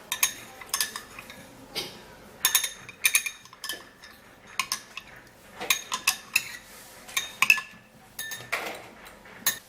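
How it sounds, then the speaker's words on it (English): Milk and yogurt stirred together in a bowl, a spoon scraping and clinking against the sides in quick irregular bursts, close and fairly loud, with no talking. "So you have to stir it very well so that the milk and the yogurt can actually dissolve inside very well."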